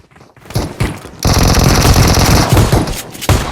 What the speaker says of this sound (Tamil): கன் ஃபைட் ஏதாச்சும் ஒரு பக்கம் இருக்கு